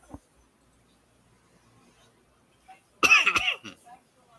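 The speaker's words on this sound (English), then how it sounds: "Yes, I still have a slight cough." A person with a lingering slight cough lets out a short burst of coughing up close after a quiet stretch with a faint click, otherwise alone.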